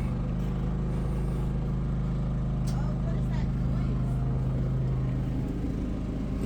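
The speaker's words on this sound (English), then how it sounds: "The furnace just kicked on." A gas furnace in a 2017 Keystone Passport 217EXP hybrid camper kicks on with a steady low rumbling hum and blower drone that runs for several seconds before dropping away, with people talking quietly nearby.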